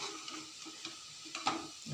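Mushrooms fry in a shallow layer of oil in a pan for mushroom pickle, giving a steady, close crackling sizzle with faint stirring taps and one brief louder pop. No voices.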